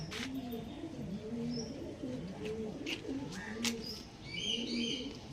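Pigeons coo close by in a soft, repeating, rolling pattern that runs throughout, with a few thin chirps and light clicks mixed in.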